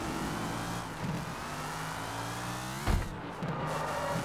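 Car engine from street racing in the video game Sleeping Dogs, revving steadily with harmonic drone and gear-shift surges, a sharper burst near the end, loud and continuous with no talk.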